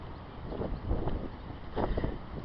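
Heavy wind buffets a microphone with a constant rumbling, gusting roar that swells and dips in irregular surges, close and moderately loud.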